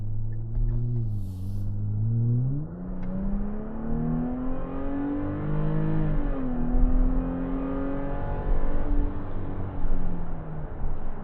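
A 2024 Nissan Frontier Pro-4X pickup truck, about a year old with 16,000 miles, accelerates hard under steady throttle. Its engine note climbs through several gear shifts in a continuous, fairly loud roar.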